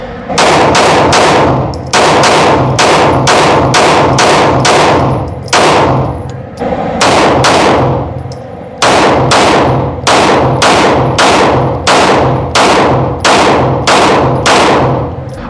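Rapid strings of loud, close pistol shots from a Glock 19 Gen 5 and a Smith & Wesson M&P 2.0, fired in quick bursts with short pauses between groups, each crack sharp and ringing.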